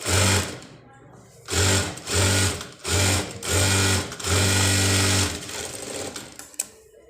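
A sewing machine top-stitches a puff sleeve in loud, close bursts of rapid whirring stitching, several short runs and one longer run separated by brief pauses, with a voice talking in the gaps.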